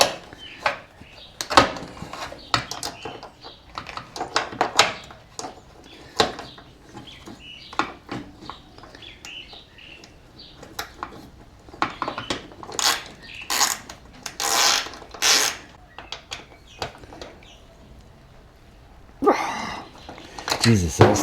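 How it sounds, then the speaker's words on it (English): A hand ratchet turns a screw into the back of a Jeep Wrangler hood fitting with a socket, giving bursts of quick clicking strokes separated by pauses, close up, with someone talking at times. "You can ratchet it on with the socket."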